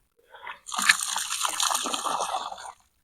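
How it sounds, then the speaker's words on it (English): Blue pool chemical pours from a container into a backyard swimming pool, a steady liquid splash and slosh that runs for about two seconds after a brief gurgle, fairly close and alone. "Looks like I'm pouring windshield washer in my pool."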